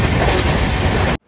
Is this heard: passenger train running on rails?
yes